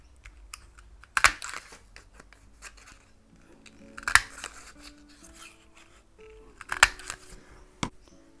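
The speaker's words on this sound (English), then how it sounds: "take my 1 inch circle punch and punch some circles" A 1 inch circle punch cuts circles from leftover paper in three crisp, crunchy snaps a few seconds apart, followed by a lighter click. The sounds are close, with faint handling rustle in between.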